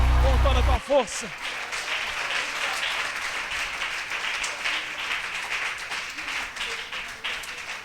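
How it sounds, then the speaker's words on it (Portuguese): A church congregation at a deliverance service applauds with strong, continuous clapping after a short sung or shouted phrase at the start, the dense applause holding steady with voices mixed in. "Aplauda esse nome"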